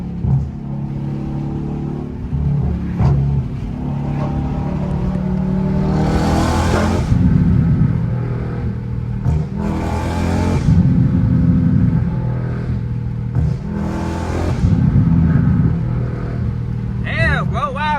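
A straight-piped widebody Dodge Challenger Scat Pack roars loud and close, its exhaust rising and falling through repeated downshift revs, with people talking over the engine.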